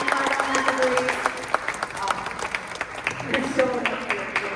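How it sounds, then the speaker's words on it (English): A crowd at an anniversary celebration performance gives a round of applause, scattered clapping of moderate loudness that rises and thins unevenly, with some voices and cheers mixed in. "let's give a round of applause for them"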